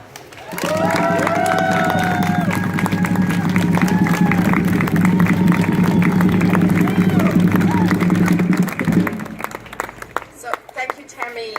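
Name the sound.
crowd applause and cheering at rally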